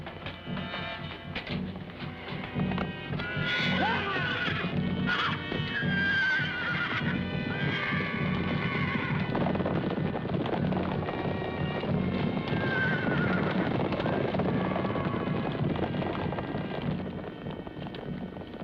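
Horses whinny and neigh repeatedly over a steady rumble of hooves and movement, with gusts of wind across the microphone.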